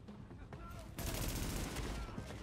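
Gunfire in the shooter game The Division, a quiet stretch with a couple of sharp reports, then a louder sustained burst of rapid shots filling the second half.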